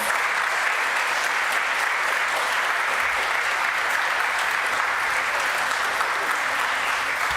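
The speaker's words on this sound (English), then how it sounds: "Can we give these kids another round of applause?" Audience applause for a children's summer performance, a dense sustained clapping from a crowd that holds steady and fairly loud throughout with no talk over it.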